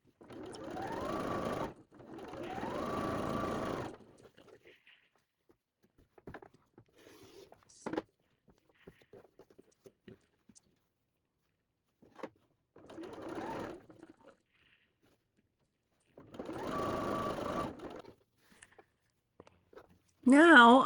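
A sewing machine chain-pieces quilt strips in several short, quick bursts of stitching separated by quiet pauses, close and clear, with brief handling noises between the runs.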